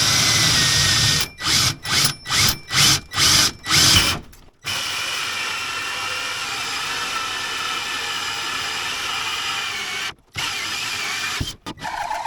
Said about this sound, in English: let's drill a hole in my house on the inside.